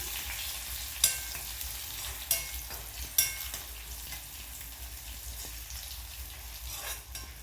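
Red chillies frying in a pan for sambar tempering give a soft, steady sizzle, broken by three sharp utensil clicks early on and a light scrape near the end.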